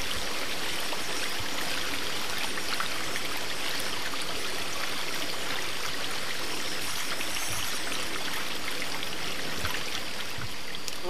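Water drains from a waste pipe during a storm in Wellington, an even, continuous rushing flow like a small stream, moderately close and steady throughout with no voices.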